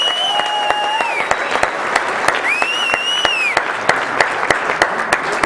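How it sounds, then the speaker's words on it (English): A seated audience applauds a speaker named Kerry Cassidy with sustained, even clapping, while a faint whistle-like tone sweeps in the background and individual sharper claps stand out. "A big round of applause."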